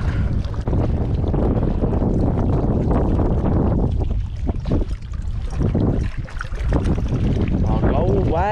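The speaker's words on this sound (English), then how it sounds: "this wind is nice and warm" Warm wind buffeting a fishing boat at sea during a morning microjigging session, a loud continuous rushing roar across the whole clip with brief dips and faint voices underneath.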